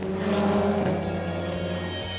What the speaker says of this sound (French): La capitale du Béarn est une des rares villes au monde à voir rouler des voitures de course en plein centre-ville.